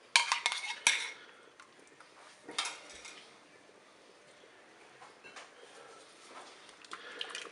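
A spoon scrapes and clinks against the metal bowl of a Cookeo multicooker while cream and mustard are stirred in, with sharp clatters at the start and then quieter, intermittent scraping.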